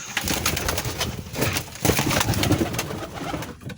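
A male Giribaz pigeon coos repeatedly at close range, throaty rolling calls with soft rustling between them.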